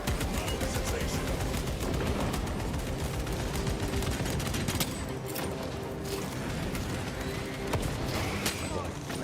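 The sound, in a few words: gunfire in the video game Space Marine 2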